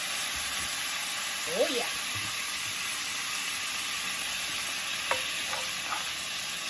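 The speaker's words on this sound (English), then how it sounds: "we're going to add 1/4 of a cup of beef broth" Beef broth poured into a hot pan of seared steak, sizzling and frying steadily throughout, with a brief voice speaking over the hiss.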